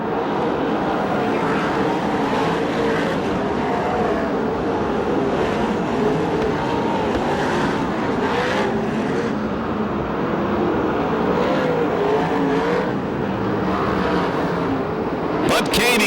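USAC National and CRA sprint cars race around the Perris oval, a steady, loud engine drone filling the track as lapped traffic mixes in, with an announcer talking throughout.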